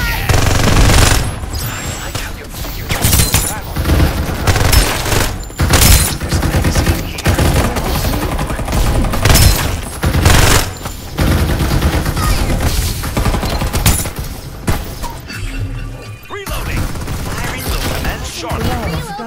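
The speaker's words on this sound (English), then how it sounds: "Open fire!" Gunfire in the battle royale video game Fairlight 84, loud rapid automatic bursts and booming shots firing almost continuously with brief gaps, alongside game sound effects.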